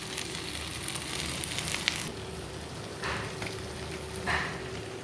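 Butter sizzling in a hot pan with mutton curry and cashew paste, a steady soft crackling hiss with a few brief stirring scrapes.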